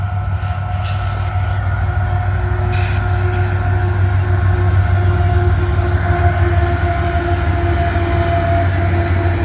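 A coal train headed back to Pennsylvania rolls past a depot near Greenwood, its steady loud rumble and rail hum filling the air from start to finish, with a faint horn-like tone running above.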